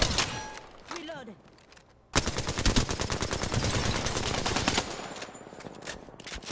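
Dense, sustained automatic gunfire in the shooter game Apex Legends, erupting suddenly after quieter moments and running loud and continuous for several seconds before easing slightly, with game sound effects around it.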